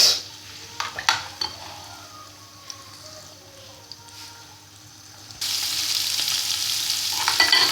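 Garlic sizzles and fries in a pan while a utensil stirs it, with soft scraping and clinks early on. The frying grows steadily louder and hisses strongly through the second half, with no voices.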